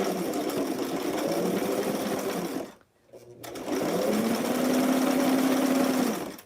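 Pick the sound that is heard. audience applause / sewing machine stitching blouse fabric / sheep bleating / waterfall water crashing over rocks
sewing machine stitching blouse fabric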